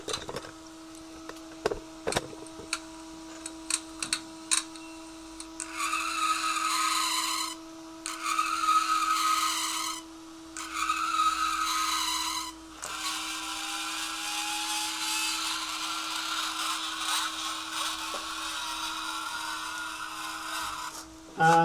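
A small fischertechnik robot vehicle run by a TXT controller drives off, its motors whirring in sustained stretches over a constant electrical tone, with brief taps and pauses between runs.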